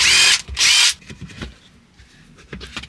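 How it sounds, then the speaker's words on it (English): A power drill removes panel screws inside a 2000 Land Rover Discovery: two loud, close high-pitched whirring bursts in quick succession, followed by quieter clicks and handling noises. "You take these two screws out here."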